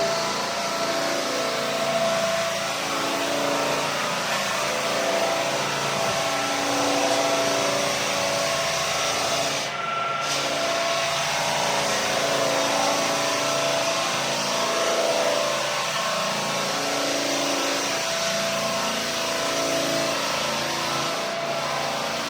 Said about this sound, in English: today he is gonna sand this room